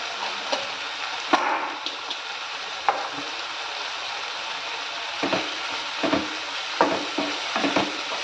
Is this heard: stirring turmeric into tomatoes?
yes